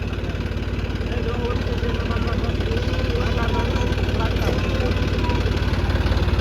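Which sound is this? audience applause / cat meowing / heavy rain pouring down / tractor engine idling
tractor engine idling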